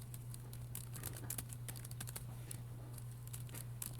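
Fingers patter on a computer keyboard in quick, uneven bursts of soft clicks, up close over a low steady hum.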